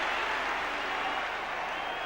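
Capacity crowd of about 52,500 at an Everton versus Liverpool derby football match, a steady broad roar and applause filling the stadium, with a commentator speaking over it.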